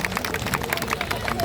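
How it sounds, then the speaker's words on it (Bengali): Audience applause for a young local author, steady clapping from a crowd with murmured voices mixed in, sustained and fairly loud throughout the short stretch. "একটা জোরে হাততালি চাইবো ওর জন্য।"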